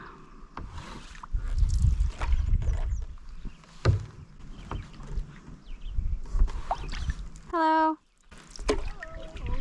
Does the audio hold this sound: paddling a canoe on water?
yes